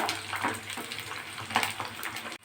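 Wheat flour snack pieces fry in hot oil over medium heat, giving a steady dense sizzle with crackling bursts throughout and a faint low hum underneath.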